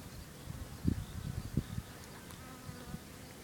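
Honey bees buzzing at a hive entrance on a bee farm, a steady low drone of many wings with a few louder close passes, alone without talk.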